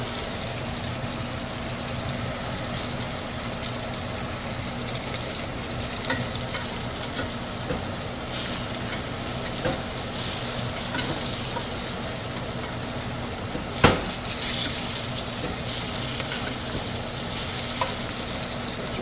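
A tomahawk ribeye steak sizzles loudly and steadily in a pan while being basted with garlic and herbs, a continuous close crackle with a few louder spoon scrapes and spatters.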